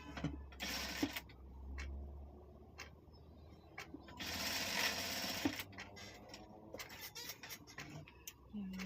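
A sewing machine stitches a small pouch made from old fabric scraps, running in close, rapid bursts separated by short pauses and clicks.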